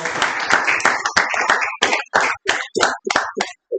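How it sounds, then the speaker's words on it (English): Audience applause at a Toastmasters club meeting, a burst of clapping hands that thins into scattered, separate claps and fades after a few seconds. "Please clap for them as I speak on their names."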